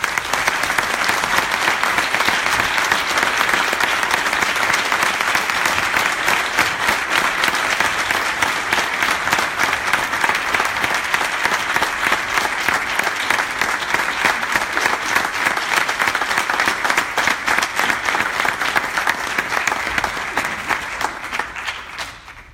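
A large audience at a cancer research round table applauds for over twenty seconds, a loud, dense and steady wash of clapping that fades out at the end.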